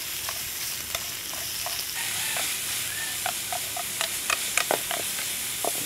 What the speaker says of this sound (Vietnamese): Các bạn phải xào thịt trước.